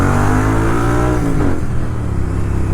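A Royal Enfield Interceptor 650 fitted with a PowerRage full exhaust revs loudly up close, the engine note climbing then dropping back in one short burst.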